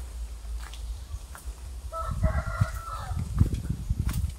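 Hens cackling and clucking around a coop where a broody hen was sitting on eggs, a burst of loud, agitated calls building near the mic over a low outdoor rumble.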